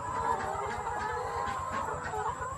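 Chickens cluck steadily on an egg farm, a dense chorus of many hens at close range with no talk over them.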